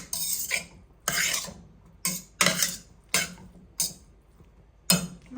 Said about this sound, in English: And I'm going to add my spaghetti. I'm just going to stir it.